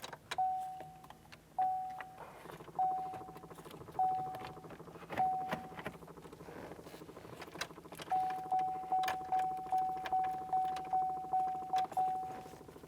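Car keys jangle at the ignition of a 2006-2013 Chevrolet Impala while a steady repeating chime beeps in regular bursts, first spaced out and then in a quicker run, close and fairly quiet.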